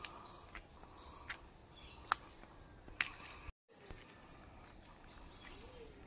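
Crickets and birds in a forest along an uphill trail, a steady insect chirring bed with scattered faint bird calls and a few sharp clicks, briefly cut out for a moment midway.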